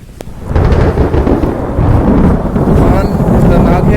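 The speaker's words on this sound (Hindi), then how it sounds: "तूफान खतरनाक है, बारिश होने लगी है" A thunderstorm roars close and loud, low rumbling thunder rolling continuously under gusty wind buffeting the microphone, with rain noise mixed in for several seconds.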